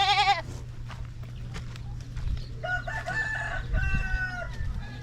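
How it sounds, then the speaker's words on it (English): Goats on a farm at feeding time bleat and call in a busy, overlapping chorus, with a rooster crowing among them and steady low rumble underneath. "Feeding time for the goats."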